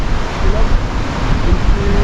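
Loud, continuous roar of sea waves and gusting wind buffeting close by on the Latvian coast.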